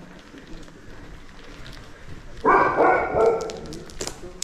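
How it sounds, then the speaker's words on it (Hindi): Dogs barking on an empty road in the early morning, a short burst of loud, overlapping barks after a quieter stretch, with faint background noise before and around them. "और सारे डॉग्स हमारे पे भौंक रहे हैं क्योंकि रोड पे सिर्फ हम लोग हैं"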